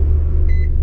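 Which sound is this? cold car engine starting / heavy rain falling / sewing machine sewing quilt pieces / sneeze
cold car engine starting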